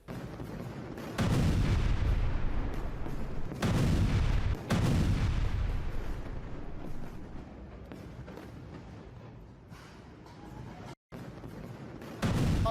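Heavy explosions at a military depot near Isfahan, with deep sustained roaring blasts rolling in waves, loud and reverberant, then a long dimming rumble broken by a brief dropout.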